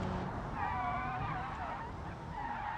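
A car in BeamNG.drive braking hard and skidding, with a wavering tire squeal over a steady engine rumble, moderately loud and continuous, no speech.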